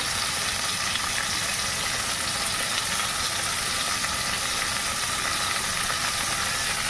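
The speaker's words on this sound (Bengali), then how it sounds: "মাছটা ভাজা হোক" A fish fries in hot oil in a home kitchen, producing a constant, even hiss and crackle that stays loud and unbroken throughout, with no speech.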